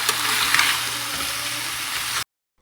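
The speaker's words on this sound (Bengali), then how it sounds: "ফুলকপিগুলো হালকা হালকা ভেজে নিয়েছিলাম এবার কষিয়ে নিচ্ছি মশলার সঙ্গে" Loud, dense sizzling of cauliflower sautéed with spices in a small hot wok, with a few scraping knocks, cutting off abruptly near the end.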